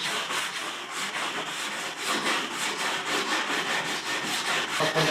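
Wooden edges being sanded with 80-grit sandpaper, a steady, loud abrasive rasping in continuous back-and-forth strokes, close up with no talking.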